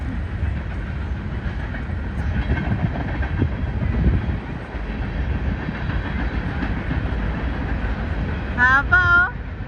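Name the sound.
long passing train at a park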